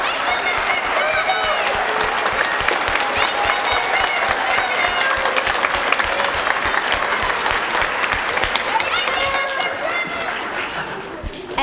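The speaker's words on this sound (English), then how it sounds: "Would you stand up for a minute so we can give you a round of applause?" Sustained audience applause at a school choir concert for an intermediate school, loud and dense throughout with some cheering and crowd chatter mixed in, tapering slightly at the end.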